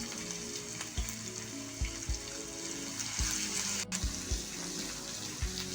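Cumin seeds with garlic and ginger paste fry in hot oil in a pan, giving a steady close sizzle broken by popping crackles.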